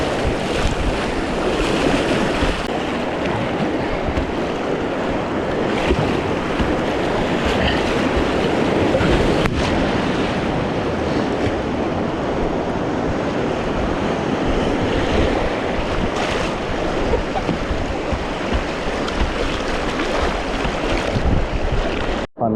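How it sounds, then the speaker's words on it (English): Rushing white water roars continuously at a small rapid on Battle Creek, California, heard from a kayak, a loud, dense, unbroken wash of turbulence close by. "Fun little rapid, all the water's channeling to one little spot."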